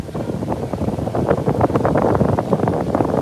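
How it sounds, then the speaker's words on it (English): Gusty wind buffets and roars across the microphone in uneven bursts, steady and fairly loud throughout. "Yeah, it's windy."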